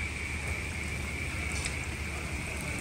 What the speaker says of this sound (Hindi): बारिश हो रहा है इतनी जोर की